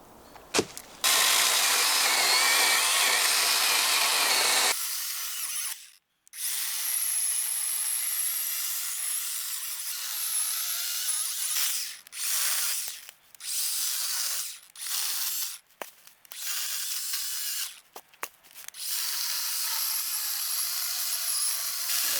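A small battery-powered Olmlmo chainsaw cuts through a thick hunk of timber, its high whining motor running steadily in long bursts broken by brief stops and restarts, close and fairly loud.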